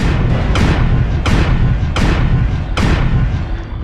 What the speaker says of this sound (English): I'm only firing the ACs in that side of my mech